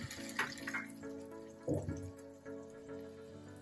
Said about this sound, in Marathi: आता आपल्याला कढईमध्ये पाणी आणि दूध ओतून घ्यायचं